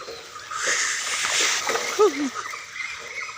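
Steady rushing and splashing of water as someone wades across a river in the rain, with a bird chirping briefly partway through.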